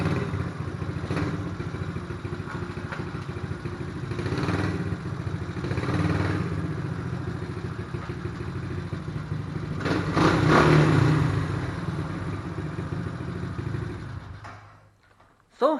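Motorcycle engine humming steadily during a night ride, a continuous mid-pitched drone with a brief louder swell near the end before cutting out.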